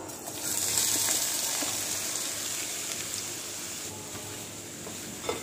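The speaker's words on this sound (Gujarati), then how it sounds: "તેલ થોડું ગરમ થાય એટલે આપણે પહેલાં કાંદા એડ કરીશું" Onions fry in hot oil in a pan on a gas stove while a homemade pizza topping is prepared, giving a steady, moderately faint sizzling hiss that holds throughout.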